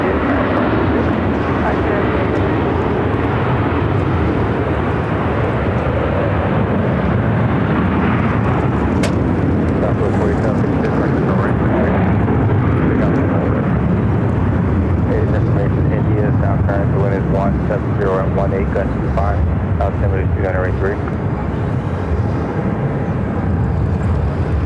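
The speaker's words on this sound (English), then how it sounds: "This is American Airlines flight 1691 headed to Dallas." An American Airlines airliner, flight 1691 bound for Dallas, at Phoenix Sky Harbor gives a loud, steady jet roar that fills the whole stretch, with faint voices underneath.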